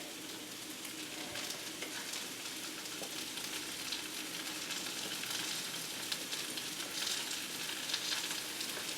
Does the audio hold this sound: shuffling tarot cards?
no